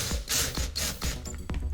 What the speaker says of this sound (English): I'm going to grab a screw and screw into the back side of the coaster